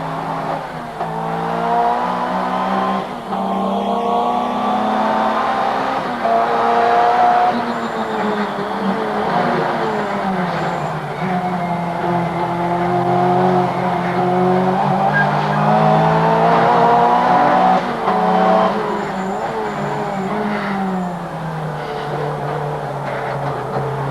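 A Group A racing car is driven hard through corners with its engine roaring steadily and tires squealing and skidding almost throughout, a loud, continuous run that swells and eases with each bend.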